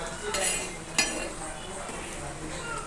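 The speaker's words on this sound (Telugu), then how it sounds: "చూసారా ఎలా ఉడుకుతుందో చాలా బాగా ఉడుకుతుంది కదా" A pot of chicken curry bubbles and sizzles steadily at close range, broken by a couple of sharp clinks of a spoon against the pot.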